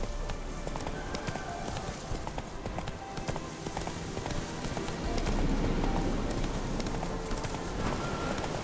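Horse hooves clip-clopping in The Witcher 3: Wild Hunt, a steady rhythmic trot under busy game ambience that grows slightly louder partway through.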